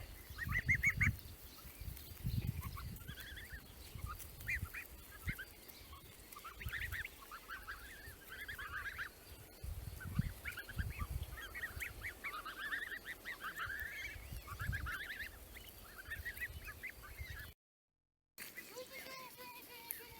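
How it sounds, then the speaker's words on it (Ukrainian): A flock of geese honks repeatedly and continuously, many overlapping calls near and far, with low rustling and footsteps underneath. "Отак гуси йдуть."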